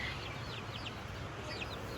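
Silkie chickens at a cider mill farm cluck and chirp in short, scattered high calls over a steady murmur of outdoor background noise.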